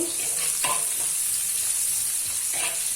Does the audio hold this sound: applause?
no